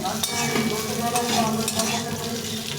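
Potatoes fry in a pan for a dish of aloor dom, giving a dense, loud sizzle with stirring scrapes and clinks mixed in throughout.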